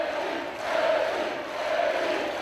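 A big Leeds arena crowd of about 7,000 roars for Eddie Hall's record-tying strongman lift at Europe's Strongest Man 2014, a dense sustained wall of cheering that swells twice.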